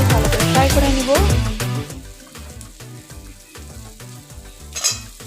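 Spice paste sizzles and fries in a pan, stirred now and then, for a Bengali masoor dal with Malabar spinach; a steady close crackle with scraping, loudest at the start and settling lower.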